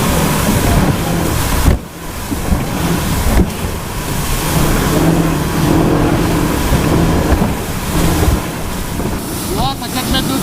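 A sailboat runs offshore at 23 knots through four-metre swell, with loud continuous wind buffeting the microphone, rushing water and waves slapping the hull, a short lull near two seconds and faint tonal creaks near the end.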